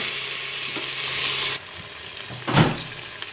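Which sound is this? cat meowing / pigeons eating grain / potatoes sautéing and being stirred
potatoes sautéing and being stirred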